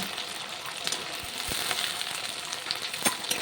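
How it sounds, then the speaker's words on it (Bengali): Cauliflower, potato and ginger are lightly frying in a pan for Bengali labra, giving a close, continuous sizzle with scattered crackles and stirring scrapes and no talking. "ফুলকপি আলু আর আদা হালকা করে ভেজে নিচ্ছি"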